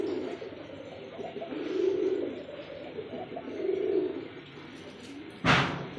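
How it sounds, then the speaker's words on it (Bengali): Pet pigeons from a pair offered for sale coo in soft, low, throaty swells, two rising phrases a couple of seconds apart, near and quiet, with a brief sharp knock near the end. "আমি বলছিলাম না কবুতর ডাকবে, প্রত্যেকটা পেয়ারই ডাকবে ভাইয়া"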